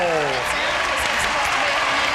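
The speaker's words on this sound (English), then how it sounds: "now let's keep the applause going" Applause from a television studio audience after a choir performance, a continuous loud clapping wash with a brief tonal trail at the start and a voice faintly beneath.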